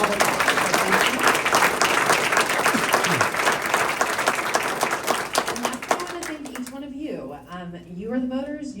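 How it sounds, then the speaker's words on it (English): An audience at a city council candidates forum claps loudly for the candidates, a dense burst of applause lasting about six seconds before fading as a speaker talks over it. "Want to give another round of applause to all of the candidates"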